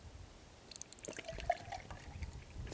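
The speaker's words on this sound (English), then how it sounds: "Let's give it a pour." Thick organic whole milk with 6% fat, poured from a bottle, giving a faint, soft glugging trickle with a few quiet splashes, heard close and low in level.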